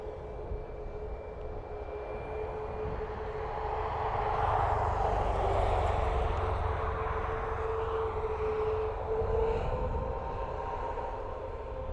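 Ryanair Boeing 737 MAX 8 departing Dublin Airport for Faro, a steady jet roar that swells to a broad peak midway and then holds at a sustained rumble, heard from a distance.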